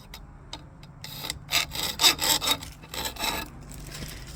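A hand file rasps in short repeated strokes, rounding the corners of a motorcycle brake or clutch lever, close and fairly loud, about eight scraping passes with a brief pause between each.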